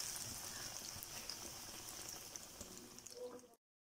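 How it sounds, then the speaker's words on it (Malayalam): Chicken donuts frying in a hot frying pan, a continuous crackling, bubbling sizzle of oil that stays fairly faint and even before cutting off abruptly near the end. "ഫ്രൈ പാൻ വെച്ച് ചൂടായിട്ടുണ്ട്, അതിലേക്ക് നമുക്ക് ഓരോ ഡൊണറ്റ് ഇട്ട് കൊടുത്ത് ഫ്രൈ ചെയ്തെടുക്കാം."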